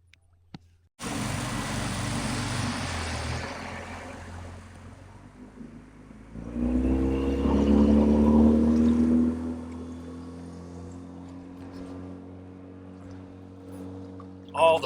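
A motorboat passes on the Neches River, its engine drone swelling to a close, loud peak with a tonal whine before fading away over water and wind noise.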